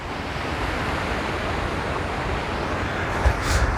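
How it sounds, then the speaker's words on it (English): Steady wind rushes and buffets outdoors in a continuous broadband roar, with a few heavier gusts near the end. "It's a bit windy here"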